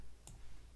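A single quiet mouse click sounds once as the compute button is pressed, a brief sharp tick against a faint background hum.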